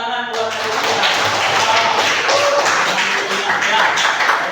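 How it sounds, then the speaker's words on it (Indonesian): A classroom of students claps for a classmate during a lesson, a dense, steady patter of many hands that starts abruptly and carries on for several seconds, with some voices mixed in. "Iya, tepuk tangan buat Aditya."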